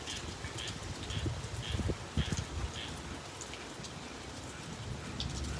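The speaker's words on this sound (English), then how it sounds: "there are still people out there that just sit outside and watch the rain fall" Steady rain falls outside a barn porch during Hurricane Sally, a constant soft hiss of drops on surfaces with a few nearby patters, alone and fairly even throughout.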